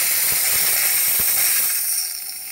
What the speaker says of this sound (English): just to show the steam power.